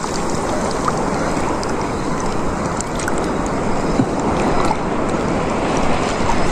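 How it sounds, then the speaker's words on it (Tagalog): Big waves wash and churn around a small fishing boat at sea, a loud continuous rush of water and wind with no break, close to the listener. "Malaki alon dito."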